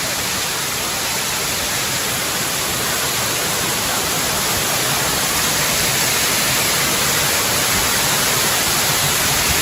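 Rani Duduma waterfall near Nandapur pours with a steady, loud rushing roar of falling water that stays broad and unbroken from start to finish, with no voices.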